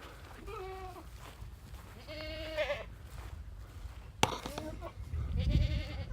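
Baby goats sired by a Kiko buck bleat in a barn, several wavering cries near and far, mixed with rustling and someone talking.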